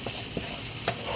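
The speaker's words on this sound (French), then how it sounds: "On mélange" Onions with tarragon are stirred in a frying pan over a steady sizzle, with three short, close scrapes of the utensil spaced through the moment.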